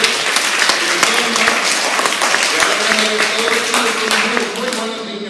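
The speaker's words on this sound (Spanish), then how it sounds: "Otro aplauso para Gamaliel." An audience at a book presentation claps steadily and loudly, a dense patter of many hands that tapers off toward the end, with some voices mixed in.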